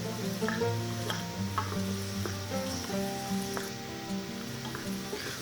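Mutton trotters with spices sizzle and fry steadily in a pot while being stirred, a continuous close hiss with scraping strokes, alongside a melodic tone underneath.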